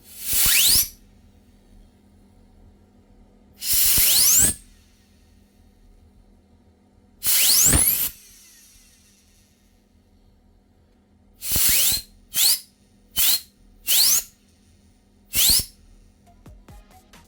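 A Novritsch SSR4 airsoft gearbox, after shimming and polished gear axles, whirs in sharp, hissing bursts: three longer runs, then four quick shorter ones, with quiet pauses between.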